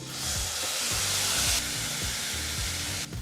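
Spices for cumin rasam fry in a hot pan with a steady, loud sizzle and hiss, broken by regular scraping stirs, and no voices.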